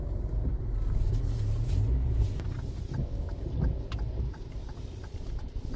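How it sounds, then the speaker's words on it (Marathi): Congested road traffic near Dona Paula in Goa during heavy rain forms a continuous low rumble, with wind buffeting the microphone and no clear passing vehicles. "ट्रॅफिक पळय कितले"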